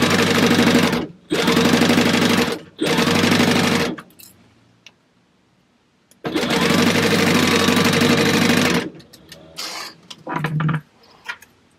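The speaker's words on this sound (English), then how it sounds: "We're going to sew down quarter of an inch." A sewing machine stitches through clear vinyl in three short runs, then pauses, then runs in one longer burst, with a steady motor whir close by and a few faint clicks and handling noises between runs.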